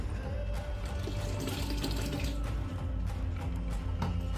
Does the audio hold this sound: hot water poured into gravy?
yes